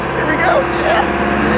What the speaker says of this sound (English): Oh, it's revving up.